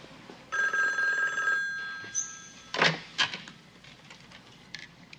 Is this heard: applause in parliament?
no